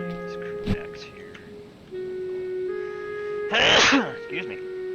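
A single sharp sneeze bursts out near the end, loud and close, set against a steady game background hum, with a softer earlier vocal sound and faint noises around it.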